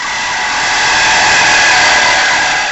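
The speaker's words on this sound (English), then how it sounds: "pop the drill head off of this, put the saw head on it" A power drill fitted with a saw head runs steadily at high speed, a loud continuous whir and grind that swells slightly and holds for a few seconds, close by with no talk.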